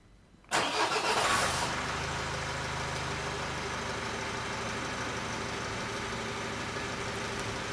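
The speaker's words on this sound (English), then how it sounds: "So let's start her up, see what comes off it." A 2010 Nissan Qashqai 2.0 dCi diesel engine with an air-fuel sensor fault cranks and catches with a sudden loud burst, then settles into a steady, fairly close idle that hums on alone.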